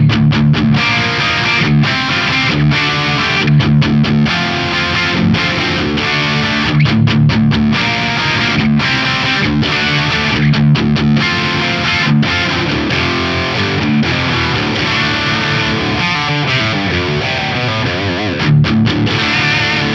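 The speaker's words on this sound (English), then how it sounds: "So that's the core crunch tone." An electric guitar plays an 80s-style crunch tone through an FM3 amp modeler recreating an A/DA MP-1 preamp with light plate reverb, loud and steady with chugging rhythmic chords and no talking.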